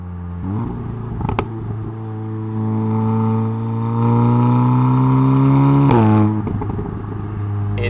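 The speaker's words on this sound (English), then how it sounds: "It's just become louder and kind of almost deeper." Exhaust note of a 2017 Audi S3 Sportback four-cylinder turbo with the resonator deleted: a loud, steady droning tone that rises in pitch through a rev, then drops off sharply and settles back to idle, heard alone and close.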